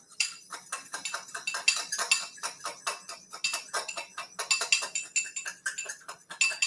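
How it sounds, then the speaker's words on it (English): A whisk beats a Dijon mustard dressing in a bowl, rapid rhythmic metal clicks against the side, close and continuous without pause. "I'm going to whisk that up."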